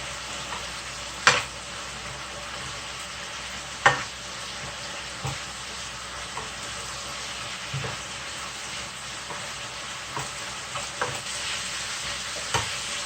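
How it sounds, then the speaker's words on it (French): Jajang black bean paste being stirred into food frying in a pan for jajangmyeon, a steady sizzle and hiss with occasional sharp scrapes and knocks of the utensil against the pan. "vous allez rajouter le jujang que vous avez tout à l'heure pris. Et vous allez mélanger."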